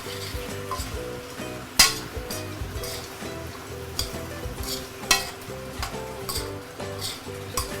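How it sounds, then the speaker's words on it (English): Pork leg sizzles and splatters as it hits hot caramelized sugar in a pan, with busy crackling, stirring scrapes and sharp metallic clinks of utensil against pot, close up and loud. "the moment you put in your pork leg, it will actually splatter"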